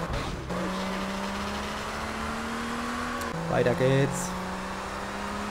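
A car engine drones steadily while driving in GTA Vice City. Its pitch holds level, then dips and wobbles briefly partway through before settling lower. Someone speaks briefly over it.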